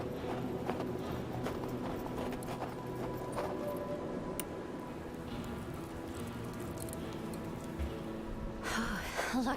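Horses' hooves clip-clop steadily on the move in the tactical western game Hard West II, a continuous rhythmic trot with occasional snorts and a louder burst near the end.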